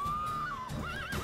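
A horse whinnies loudly in a video game, one long high neigh that wavers and rises again, heard alone with no talk.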